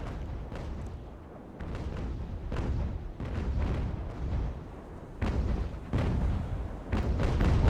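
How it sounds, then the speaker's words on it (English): Naval cannon fire in Ultimate Admiral: Age of Sail, a series of repeated booming shots at irregular intervals over a continuous low rumble of battle. "Shots from Triumphant shooting over Spirit and hitting the Romney."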